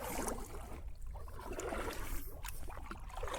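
Kayak paddle strokes pulling through water, steady swishing and splashing close by with no talk.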